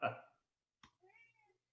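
A house cat gives a short meow close by after a brief burst of noise and a click, all in an otherwise quiet room.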